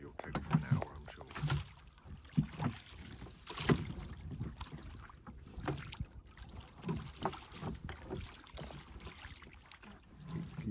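Oars work an oyster boat on the River Fal in Cornwall, giving uneven knocks, splashes and creaks from the rowing, with wind noise and quiet voices talking in the background.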